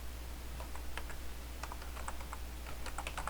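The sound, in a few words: typing on a computer keyboard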